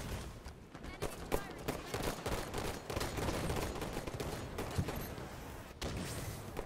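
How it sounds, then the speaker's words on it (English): Gunfire from a multiplayer round of the video game Halo 5 crackles in a fairly faint, steady stream of rapid shots, with sharper bursts standing out now and then against the continuous battle noise. "Red spawn, under fire. Enemy firing!"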